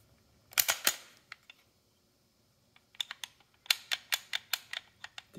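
Sharp dry clicks from a Walther PDP pistol trigger resetting: a quick cluster of three near, loud clicks, a pause with a few lighter taps, then a rapid run of about a dozen crisp clicks close by.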